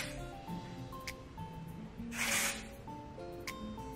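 A short hiss of aerosol hairspray bursts out near the middle over quiet background music, lasting about half a second.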